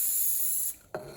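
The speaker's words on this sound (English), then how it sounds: "I just used this canola cooking spray." Canola cooking spray hisses steadily from an aerosol can as a release agent on a concrete benchtop mould, close and continuous, then cuts off before a brief second puff.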